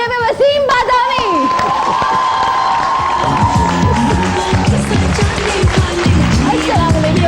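A morning TV studio audience greets a guest's entrance with cheering and clapping, set beneath a loud, bright musical jingle that runs throughout.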